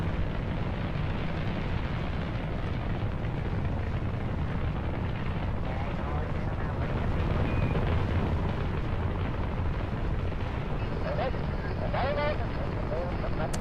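Rocket engines fire in the Kerbal Space Program video game with a dense, continuous roaring rumble at steady loudness, while a person talks over it throughout.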